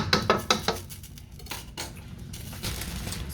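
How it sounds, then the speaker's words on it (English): A crab boil being stirred in a pot, with metal utensil clinks and scrapes against the pot bunched at the start, then fading into a softer bubbling, sizzling background with a few further faint knocks. "We're gonna give it a little mix."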